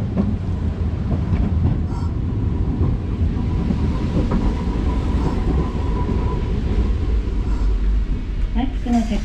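Riding a tram through Hakodate, a loud steady rumble of wheels on rails with rattling and clicking carriage noise from inside the car, continuous throughout with faint talk mixed in.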